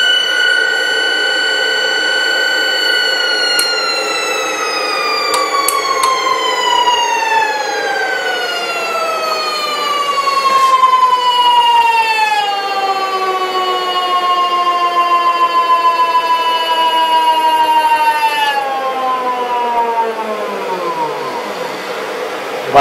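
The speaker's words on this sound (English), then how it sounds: "One ultra-fast stepper motor." An ultra-fast stepper motor whines with a loud, continuous pitched tone rich in harmonics that gradually falls in pitch over about twenty seconds, then drops off sharply near the end.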